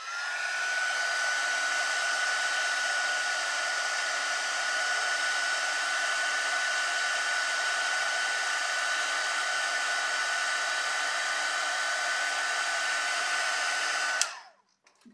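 A heat embossing tool blows hot air over foiled card stock for a card box, a steady loud whoosh with a faint whine running without a break for about fourteen seconds before it cuts off abruptly.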